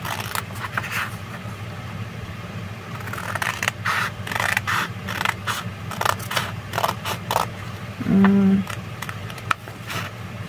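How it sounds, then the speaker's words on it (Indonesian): Scissors snip through two stacked sheets of pattern paper for a basic bodice block, a run of close, crisp cuts and rustles over a low steady hum, with a brief tonal thump near the end. "Ini ada 2 lembar ya, kita bisa gunting"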